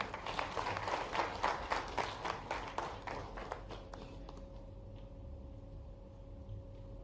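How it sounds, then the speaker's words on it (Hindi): An audience at a Bhopal gathering of investors, industrialists and businesspeople claps for the Chief Minister, a dense burst of applause for about four seconds that quickly fades into a quiet room with a steady hum. "जोरदार तालियां हो जाए"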